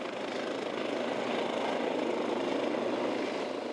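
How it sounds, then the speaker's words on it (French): A helicopter descending toward its landing point, its rotor stirring up snow in a whiteout, gives a loud, steady, broadband roar of engine and rotor wash that holds constant throughout. "Plus l'hélicoptère s'approche de son point d'atterrissage, plus son rotor soulève des tourbillons de neige"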